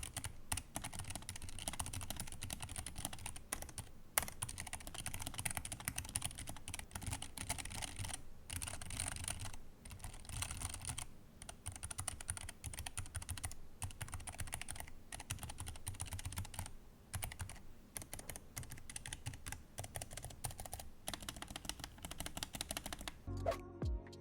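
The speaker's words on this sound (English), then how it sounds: "here are some typing sounds on the Keychron K3 with the brown switches" Steady, rapid typing on a Keychron K3 keyboard fitted with brown tactile switches: dense, close-up clacks in an uneven rhythm, with brief pauses between bursts and no talking.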